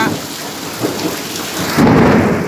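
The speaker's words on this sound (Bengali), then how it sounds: "জল ঝড় এই হলো জলের দিন মেঘ ডাকছে" Thunderstorm with heavy rain pouring steadily on surfaces, loud and close, with a deep rumble of thunder swelling near the end.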